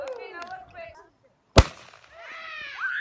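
A single firework bursts sharply during a 4th of July celebration, a loud close bang with a brief crackling tail, following and followed by people talking nearby.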